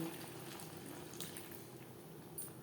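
Water is poured into a pan of fish egg curry with eggplant, a soft, steady splashing and trickling wash close by and fairly quiet, lasting the whole short moment.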